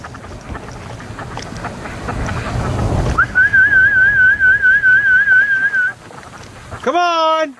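After some wind noise, a person whistles a long wavering tone for a few seconds to call ducks, then a brief rising whistle follows.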